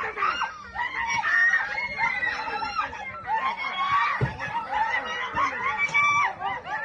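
A child screams and cries shrilly and almost without pause while municipal officers demolish a family's home in Bandar Abbas, with other voices mixed into the commotion.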